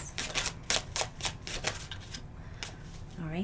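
Tarot cards are shuffled by hand in a series of quick, crisp riffling bursts with short gaps, close and fairly clear, followed by a brief voice at the end.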